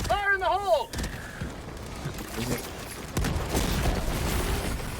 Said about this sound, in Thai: ไอ้เวนเอ้ยระเบิดแล้วลูกเดียว